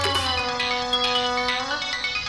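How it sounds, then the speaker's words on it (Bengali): A mobile phone ringtone plays steadily, a bright electronic melody with stacked tones that shift pitch partway through, loud and close with no talking over it. "কে ফোন করেছে?"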